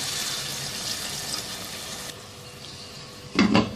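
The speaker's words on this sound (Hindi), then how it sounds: "हस्बे ज़रूरत पानी शामिल कर लेना है।" Mutton masala curry hisses and sizzles in a pan as water is poured in, a steady spluttering hiss followed by a brief louder splash of liquid near the end, with no talking.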